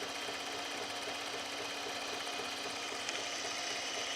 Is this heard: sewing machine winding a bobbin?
yes